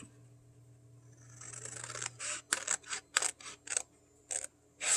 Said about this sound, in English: We're just going to cut all of these out.